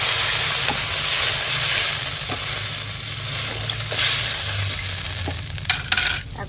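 Water hitting a pan of frying spices and vegetables for a Bengali radish and vetki fish-bone curry, a steady loud sizzle and hiss that swells and lingers with a few utensil clinks near the end.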